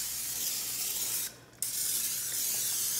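Cooking spray hisses steadily onto a cake pan being greased for a key lime cake, one close continuous spray with a brief pause in the middle before it resumes.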